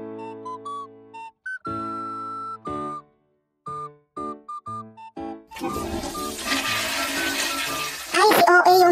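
Water is poured into the tank of a Simplus wet and dry vacuum, a gurgling, rushing flow that starts partway through after bursts of tonal electronic beeps and melody, then grows louder toward the end.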